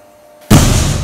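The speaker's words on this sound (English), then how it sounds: "now that is a huge explosion from a tiny balloon" A small balloon filled with hydrogen and oxygen split from water is ignited with a lit splint and bursts in a single sudden, loud, close bang after near silence, with a brief ringing decay.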